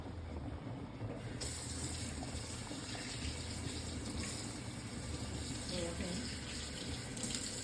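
A pot of water boils for cooking pierogi, giving a steady, even bubbling hiss that continues without a break. It is moderately close and fairly quiet.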